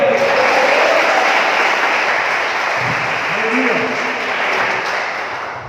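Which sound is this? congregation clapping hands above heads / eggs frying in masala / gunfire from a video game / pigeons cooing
congregation clapping hands above heads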